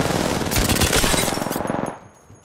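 Rapid automatic gunfire in the Apex Legends video game, a dense burst of close, loud shots that keeps going for about two seconds and then cuts off abruptly, with no talk.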